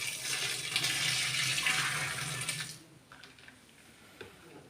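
Water poured slowly from a full basin into a washing machine, a steady close gush lasting nearly three seconds before fading to quiet trickles and small clinks.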